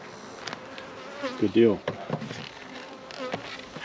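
A swarm of bees buzzes around a hive during a swarm capture, a close, dense drone with a few louder passes, while a person talks briefly over it.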